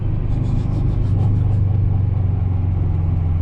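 A 1995 Acura Integra GSR accelerates hard, its loud, steady engine and intake drone rising and holding close throughout, with no talking.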